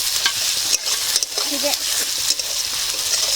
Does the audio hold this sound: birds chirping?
no